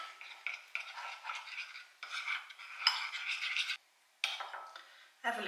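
Utensils stirring and tossing salad components in a bowl, a run of quick scraping and clinking strokes in short bursts with one brief pause, no talking.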